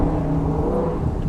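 A 1969 Chevrolet Camaro pushed hard through an autocross course, its engine a loud, dense, raspy roar in the manner of a vintage Trans Am racer, sustained and close with no break.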